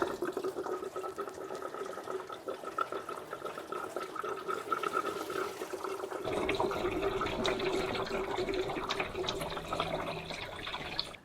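Coolant draining from a Renault Clio 1.2 16v into a drain pan, a steady trickling, splashing stream that turns fuller and louder halfway through, close by and with no talk.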